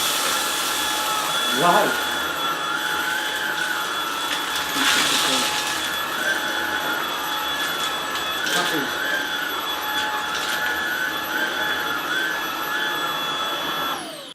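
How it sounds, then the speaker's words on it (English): A Shark DuoClean cordless vacuum cleaner (IF200UK) runs on carpet with its brush roll spinning fast, making a loud, steady whine throughout with brief surges, while a person speaks over it. "This time the brush roll will spin faster, because of course I'm going to have it on the carpet setting."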